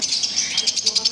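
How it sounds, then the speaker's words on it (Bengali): Pet birds in a bird shop, including cockatiels and conures, chirp in quick, bright repeated bursts at close range. A faint voice is also present. "এই পাখিগুলো বাড়িতে আছে, দোকানে তো পাখি আছে।"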